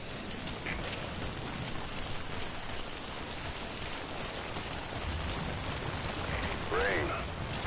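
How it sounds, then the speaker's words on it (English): Steady rainfall in the video game Metal Gear Solid 5, a dense broadband hiss of drops on surfaces that continues throughout, with a brief faint chirping tone near the end. "Sound of rainfall should help to mask your footsteps."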